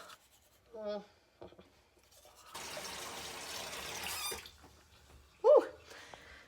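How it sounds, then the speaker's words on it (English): Tap water runs steadily for a few seconds during tooth brushing with a bamboo toothbrush, with short squeaks and scrubbing sounds before and after the close, fairly quiet flow. "we are brushing our teeth here"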